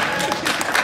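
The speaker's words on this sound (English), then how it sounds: "thank you for clapping" Audience at a youth motivational talk clapping, a brief dense patch of applause from a crowd, fairly loud and continuous throughout.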